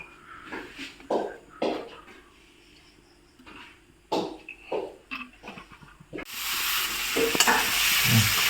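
Duck meat being stir-fried in a pan: a run of separate scraping stirs, then a loud, steady sizzle that builds and holds close by, with no talking.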